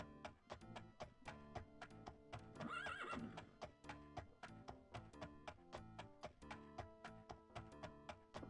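Horse neighing in the game Daggerfall, a loud whinny rising near the three-second mark over steady rhythmic hoof clip-clops that run evenly throughout, with no talking.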